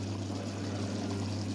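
Water pours steadily into chicken biryani gravy for dum biryani, a continuous, close, moderately quiet stream without speech.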